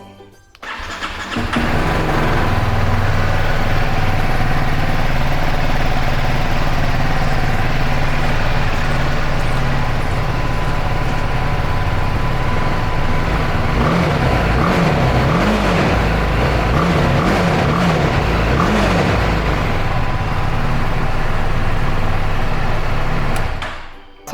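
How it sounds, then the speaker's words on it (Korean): A BMW G310GS single-cylinder motorcycle cranks and fires up, then settles into a steady, loud idle with a throaty exhaust note and a few small throttle blips, heard close up with no talking. "시동을 걸어서 배기음 체크하겠습니다"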